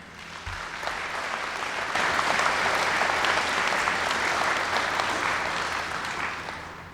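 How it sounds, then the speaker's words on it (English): A large crowd at a high school football Ring of Honor ceremony applauds steadily for a 2017 inductee, full and sustained for several seconds, swelling a little toward the middle. "you get the big applause"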